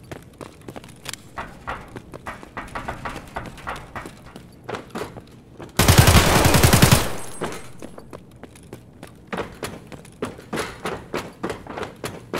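Video game gunfire breaks out as a loud, dense burst of rapid shots lasting about a second, set among sparse, irregular clicks and taps before and after.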